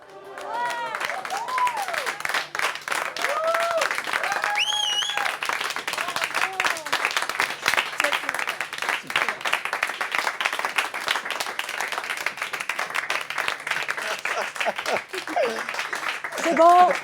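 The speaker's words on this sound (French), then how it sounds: "on arrête d'applaudir, hein, s'il vous plaît" A live audience at a comedy sketch applauds loudly with dense, sustained clapping that runs steadily throughout, while voices cut in over the noise.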